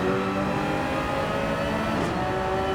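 Race car engines of a Porsche and a Toyota Supra in a racing video game at Sardegna, a steady sustained high-revving drone with harmonic tones, loud and close, with no talk.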